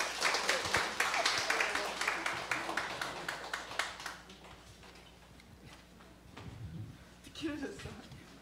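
An audience at a public lecture applauds with dense clapping that fades out over several seconds, followed by quieter room noise and a person speaking.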